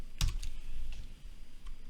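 Keys tapped on a computer keyboard while entering names into a spreadsheet, a short burst of a few quick clicks at the start followed by a couple of faint, sparse taps, close up and quiet with no talking.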